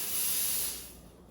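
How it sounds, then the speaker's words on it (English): A Gevi espresso machine's steam wand blows out a short burst of steam, a sharp close hiss that fades away within about a second. "we'll blow out the steam."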